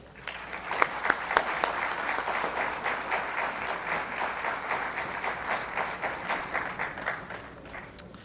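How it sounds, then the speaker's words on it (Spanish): A conference audience of industrialists gives strong, sustained applause for an arriving speaker, a dense wash of clapping with sharp individual claps near the front, loud and unbroken throughout. "recibamos con un fuerte aplauso"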